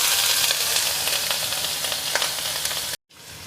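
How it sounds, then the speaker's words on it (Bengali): Paneer fries in hot white oil in a wok, giving a loud, bright, continuous sizzle with crackling pops. The sizzle cuts off abruptly near the end and then resumes more faintly. "তেল গরম হয়ে গেছে, এখন আমি পনিরগুলোকে ছেড়ে দেব।"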